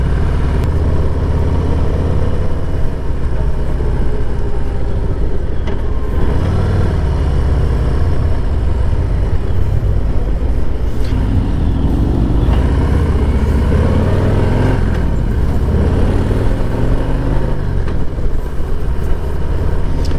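A 2024 Harley-Davidson Heritage Classic 114 motorcycle rides through curves, its engine a steady, loud low rumble throughout with slight swells as it leans through bends and no talking.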